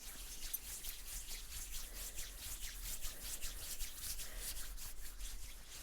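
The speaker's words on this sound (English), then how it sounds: "And rubbing the hands together." Palms rubbing together with scented oil during a quiet yoga breathing practice, a soft steady swishing friction close by, continuous and gentle with no talking.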